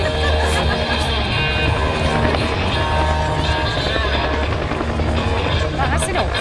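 A Huey helicopter at an air show gives a loud, steady rotor and turbine roar that fills the whole clip, with a commentator talking over it.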